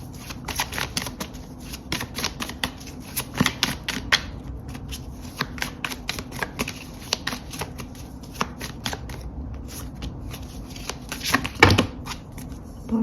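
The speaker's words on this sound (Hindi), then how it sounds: "बहुत सारे कार्ड्स गिर गए हैं" Tarot cards riffle and slap together in a close, brisk shuffle with dense crackling bursts, ending with a sharper clatter as cards spill and fall, no speech.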